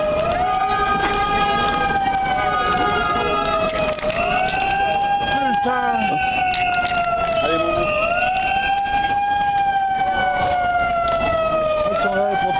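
Wailing fire engine sirens sweep up and down continuously at a street rally on Place de la République, with crowd noise and people talking close by throughout.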